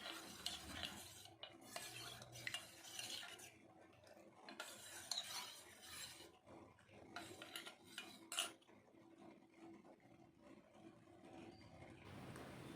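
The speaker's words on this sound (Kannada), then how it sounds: "ಕಸ್ಟರ್ಡ್ ಪೌಡ್ರಿಗೆ ಹಾಲು ಹಾಕ್ಕೊಂಡು ಈ ರೀತಿ ಸ್ಪೂನಲ್ಲಿ ನೀಟಾಗಿ ಮಿಕ್ಸ್ ಮಾಡ್ಕೊಬೇಕಾಗುತ್ತೆ" A spoon stirs custard powder with milk in a bowl, scraping and clinking steadily in quiet bursts with short pauses between.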